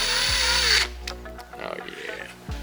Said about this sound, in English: Use power tools on plastic too.